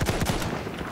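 Rapid gunfire in Battlefield 1, a burst of several loud shots in quick succession at the start and then a dense, continuous battlefield rattle.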